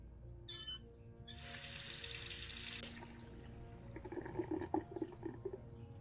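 In a video game, water runs from a tap to be heated, flowing steadily for a second or two before faint small clatters take over.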